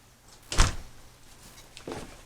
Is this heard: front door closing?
yes